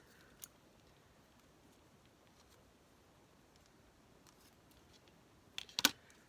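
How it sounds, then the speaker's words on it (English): Scissors snip off excess material from a balloon keepsake craft, a brief cluster of close, crisp cuts near the end after a long quiet stretch with one faint tick. "I'm going to cut that off because I don't need it"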